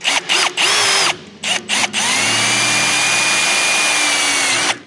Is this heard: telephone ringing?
no